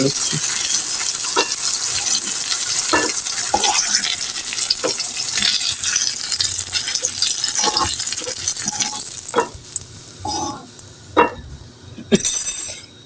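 Slices of bottle gourd fry in a pan while being turned and stirred, a close crackling sizzle broken by scraping strokes, thinning out toward the end.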